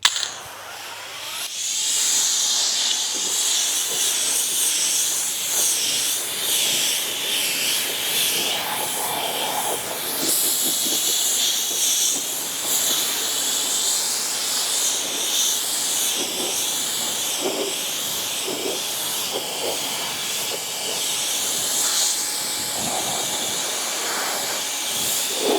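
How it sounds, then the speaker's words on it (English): An Ego pressure washer running at 1 GPM rinses foam off a car with a steady, loud hissing spray that shifts slightly in tone as the stream sweeps across the panels, continuous throughout with no talking. "that was 1 GPM out of my Ego pressure washer"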